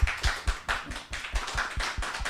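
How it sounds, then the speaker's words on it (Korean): A small group at a church gathering claps for the worship team in a brief burst of quick, uneven hand claps, near and lively, with no talk. "찬양팀 고생하셨다고 박수 한번 이렇게"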